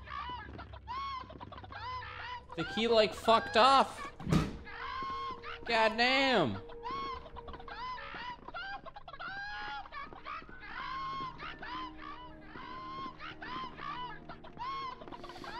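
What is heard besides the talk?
chicken clucking in video game Hand Simulator: Horror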